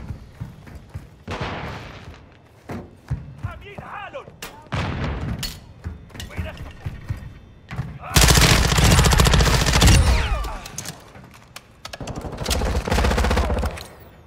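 Heavy automatic gunfire in Call of Duty DMZ: long, loud, rattling bursts, with the densest barrage in the latter half, between quieter stretches with radio-style voices and game sounds.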